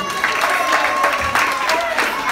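Applause for a javelin thrower at a school athletes' ceremony for the Island Games flame, a steady wash of crowd clapping with scattered voices underneath.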